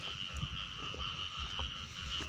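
A female frog croaks in a drained rice field in cool weather, giving faint, repeated low croaks over a quiet background hum.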